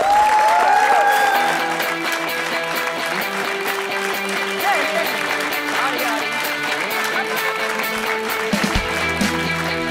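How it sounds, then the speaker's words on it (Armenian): A theatre audience at a comedy sports-club show breaks into loud applause, dense clapping that stays strong throughout with some crowd noise and a voice speaking over it. "եթե հանդիսատեսը շատ բարձր ծափարի"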